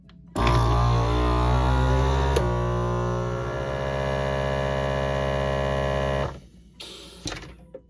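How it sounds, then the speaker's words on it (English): A FoodSaver vacuum sealer with a jar accessory runs as a loud steady electric pump hum for about six seconds, shifting tone briefly midway, then cuts off abruptly, followed by faint clicks and handling noises. "The vacuum sealer is going to shut off when all the air has been removed, so I'm going to turn it on and then hit accessory."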